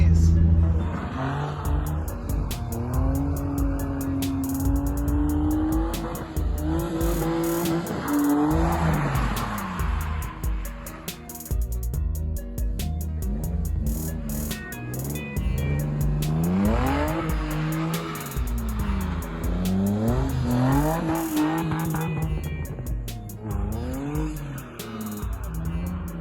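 A Nissan 350Z fitted with GKtech camber parts drifts hard around Sonoma Raceway, its engine revving high and falling while the tires squeal loudly and continuously through long slides.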